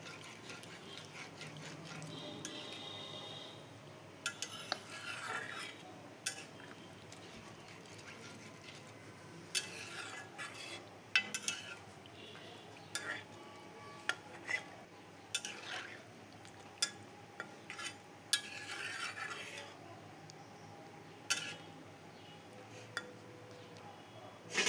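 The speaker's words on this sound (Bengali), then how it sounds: "এখন আমি পরিমাণ মতো জল দিয়ে দেব, দিয়ে একটু নাড়িয়ে দেব।" Soya vegetable curry being stirred in a pot after water is added, with faint clinks and scrapes of a spoon against metal at irregular intervals over a low background hiss, close and quiet.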